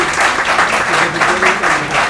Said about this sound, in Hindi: एक बार तालियां जरूर आप बजा सकते हैं